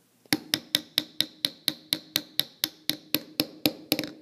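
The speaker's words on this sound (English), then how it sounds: "Just tap it down, and eventually you'll feel resistance where you can't tap anymore" A hammer taps an axle into a wheel in a steady series of about sixteen sharp, ringing metal strikes, evenly spaced and close, growing slightly louder toward the end as it seats.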